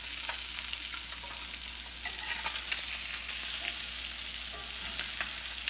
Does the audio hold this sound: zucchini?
yes